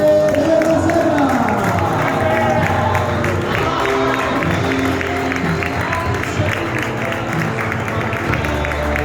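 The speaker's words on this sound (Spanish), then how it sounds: "se hace el silencio para recibir con una fuerte ovación al campeón de más 80 kilos" A crowd at a karting race podium applauds and cheers the over-80-kilo class champion in kart number 12, Roberto de la Serra, with steady clapping and shouts over music and a voice carrying through the din.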